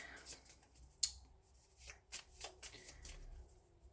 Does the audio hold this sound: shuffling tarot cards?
yes